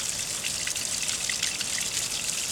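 Water runs steadily out of a rental house's water lines being flushed through a well pump, a continuous bright splashing trickle close by with no voices.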